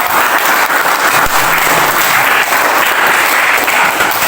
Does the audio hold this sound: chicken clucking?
no